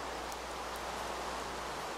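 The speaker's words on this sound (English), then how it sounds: "It's raining over here, and not over here." Continuous soft hiss of rainfall in a video game, an even, unbroken wash of falling rain with no voices.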